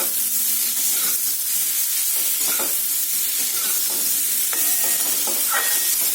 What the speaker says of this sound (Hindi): गैस का फ्लेम को हाई करके इसे अच्छी तरह से टॉस कर लेंगे